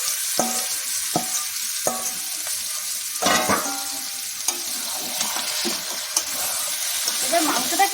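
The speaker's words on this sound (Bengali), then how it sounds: "এবার মাংসটাকে আমরা ভালো করে নেড়ে নেব" Marinated chicken is stirred in hot spiced oil in a pan for a Bengali-style chicken curry. A constant sizzle runs under repeated sharp clicks and knocks of a utensil against the pot.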